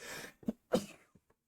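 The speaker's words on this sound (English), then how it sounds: "I got a sneeze coming." A single close, abrupt sneeze bursts out after a brief intake of breath, followed by a couple of small trailing exhalations.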